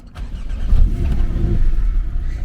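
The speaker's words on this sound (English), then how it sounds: "So when you get in the car, obviously you go ahead and turn it on," A Porsche 718 Cayman S starts up from inside the cabin: a quick crank, then a loud, deep engine catch that swells into a brief rev and settles into a steady, rumbling idle.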